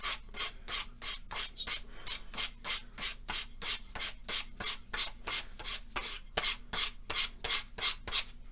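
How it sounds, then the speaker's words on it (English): Sandpaper of 120 grit rubs against the cut end of a pine log in quick, even back-and-forth strokes, about two per second, close and alone with no talking. "this is 120 grit sandpaper"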